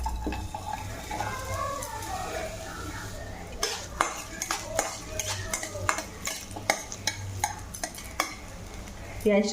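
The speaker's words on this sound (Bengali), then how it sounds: "পেঁয়াজটা আমি ভেজে নেবো, হালকা ভেজে নেব।" Hot oil crackles softly in a pan as chopped onion lightly fries, while a utensil scrapes and clinks against the metal in a run of sharp, irregular knocks, close by.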